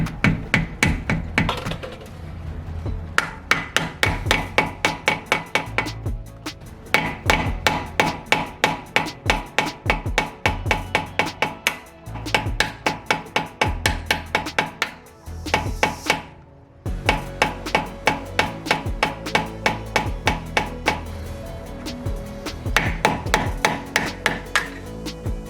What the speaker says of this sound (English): So I'm gonna grab a hammer and just hammer it slightly.